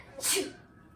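A single sharp sneeze bursts out close by, then fades into quiet room tone.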